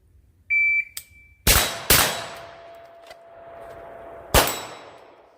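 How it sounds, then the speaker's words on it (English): A shot-timer beep, then two sharp close rifle cracks from an SPR with a magnified optic fired in quick succession, a faint ring, and after a pause a single loud pistol shot. "This will be 2 rounds with the magnified optic."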